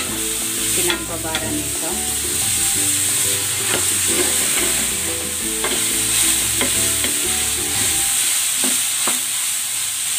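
Pork pieces for menudo sizzle and crackle steadily in a hot pan, with repeated scraping and stirring knocks throughout; a brief voice is heard under the cooking.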